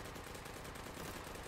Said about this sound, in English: It's a double A12. It's not often you get to see a full auto shotgun.